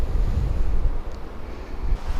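Strong Mistral wind buffets the microphone at the shore with waves breaking nearby, a loud, steady roaring rush with gusty low rumble throughout and no voices.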